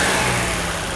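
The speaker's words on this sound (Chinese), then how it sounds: "大哥再试着来加速" A Mercedes R107 280SL's engine revs under acceleration during a repair check, a loud, brief surge of motor that eases off slightly as it settles.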